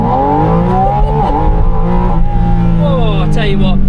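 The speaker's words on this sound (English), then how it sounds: "I'm going to give it a launch." A Porsche 718 Spyder RS launching hard from a standstill, the engine revving loud and rising steadily in pitch through the gears, heard from inside the car.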